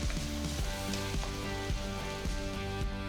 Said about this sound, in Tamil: நெக்ஸ்ட் பாதி வெங்காயம் மெலிசா நறுக்கினது சேர்த்து 2 நிமிஷத்துக்கு வதக்குங்க.